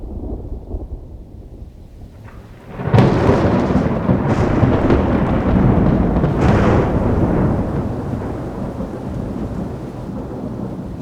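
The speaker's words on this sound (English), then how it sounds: "But today's storm dumped a full foot of rain, a tenth of the year's total in just one day." A thunderstorm over the Great Bear Rainforest, with steady heavy rain that breaks into a loud, close rolling thunderclap and long rumbling, then settles back into dense rain noise.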